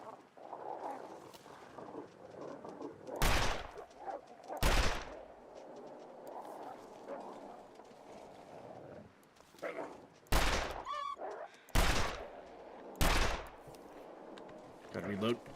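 Loud, close gunshots from a survival video game, fired one at a time in an irregular series of about seven sharp blasts, with someone talking between them.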